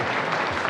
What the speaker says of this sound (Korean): 우리 한번 박수 한번 보내주시죠.